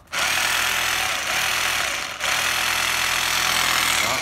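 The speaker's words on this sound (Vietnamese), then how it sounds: "Người nghe tiếng búa không?" A Japanese domestic-market cordless hammer drill running on an 18V battery in hammer mode, a loud continuous buzzing rattle that lasts throughout with one brief dip midway.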